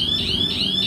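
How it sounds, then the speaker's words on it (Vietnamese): A scooter's electronic alarm sounds when the kickstand is lowered with the key still on: a loud, steady, shrill warning tone that wavers rhythmically and continues throughout, with no talking. "gạt chống xuống là 5 giây sau nó sẽ báo."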